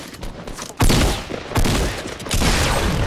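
Gunfire in the Fortnite Battle Royale video game: three loud, sharp bursts of shots land about a second apart, each decaying into a rattling tail, with no talk over them.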